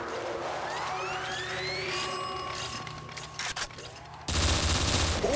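An AK rifle fires in a Call of Duty custom zombies map, with bursts of gunfire among sweeping, siren-like game tones, ending in a loud, dense stretch of shots.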